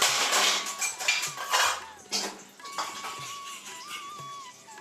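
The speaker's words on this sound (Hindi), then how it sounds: "तो यहाँ पे फिर मैं एक एक करके बर्तन भी धोने लगी थी।" Dishes and metal utensils being washed one at a time at a home sink, with repeated clinks and clatters of cutlery and pots, close and fairly loud, alongside running water and no speech.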